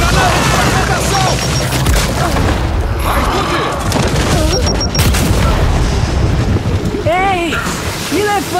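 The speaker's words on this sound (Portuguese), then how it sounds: "Granada de fragmentação!" Frag grenade exploding in Gears 5 on Insane mode, a loud booming blast amid continuous noisy combat rumble, with shouted voices in the mix throughout.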